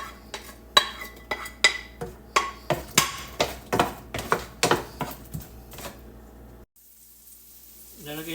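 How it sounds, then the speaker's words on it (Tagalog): Garlic and onion sautéing in a pan for pork kaldereta, a utensil scraping and tapping the pan in a regular rhythm over a low sizzle, then the stirring stops and the sizzle dies down. "Igisa ko na yung bawang at sibuyas."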